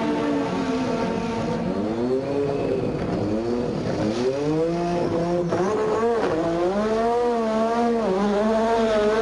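Formula 1 race car at the 1986 Hungarian Grand Prix, its high-pitched engine whining and climbing through gear changes as it drives past, loud and continuous with no talk.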